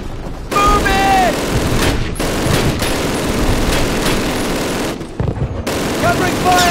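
Dense automatic and rifle gunfire from a World War II battle in the Xbox 360 game Call of Duty: Classic, loud and continuous with brief lulls, while shouted voices call out over the shooting.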